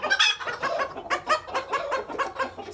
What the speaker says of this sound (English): So this is the pullet.